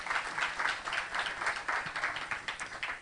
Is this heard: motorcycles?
no